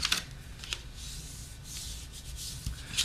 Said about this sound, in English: you want to burnish the folds. Get a nice crisp edge.